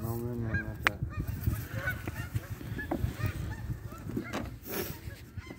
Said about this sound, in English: Gaggle of goose versus gaggle of goose.